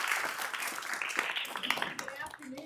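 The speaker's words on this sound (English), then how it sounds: "I'll ask you to join me in a round of applause for our panel." Applause from the audience for a law school symposium panel on criminal justice reform, a short scatter of clapping that thins out as a voice begins speaking.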